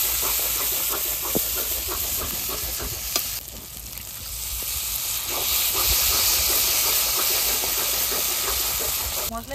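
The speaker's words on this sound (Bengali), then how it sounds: "মশলায় তেল ছেড়ে দিয়েছে, পোস্ত দিয়েছি, তারপরে মিনিটখানি ভেজে নিয়েছি।" A poppy seed and cashew paste masala fries in oil, giving a steady loud sizzle with frequent spoon scrapes and taps as it is stirred, and no voices.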